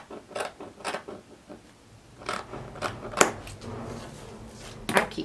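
Scissors cutting fabric for a blouse, a series of close, crisp snips and creaky blade strokes spaced irregularly, some louder than others, with quieter handling noise between cuts.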